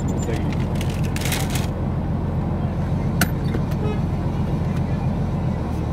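A Nissan GT-R with an RB26 engine drives along, its engine a steady loud rumble from inside the car, with people talking over it and a few brief clicks.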